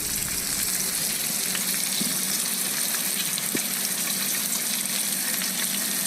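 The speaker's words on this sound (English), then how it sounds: "You'll hear it kind of sizzling. That's what you want." Salmon sizzles loudly and continuously in a frying pan, a dense hissing crackle close to the microphone with an occasional faint tap.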